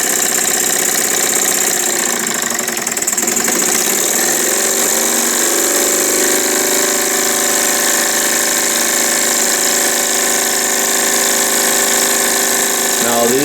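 An antique Jensen Weeden toy steam engine runs hot and speeds up, giving a steady, loud mechanical whir and hum that rises in pitch and stays continuous throughout.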